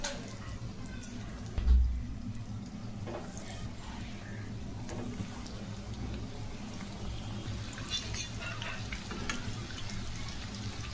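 Cheese balls frying in hot oil in a kadai, a steady soft sizzle and bubbling hiss that runs evenly throughout with one brief low thump near the start.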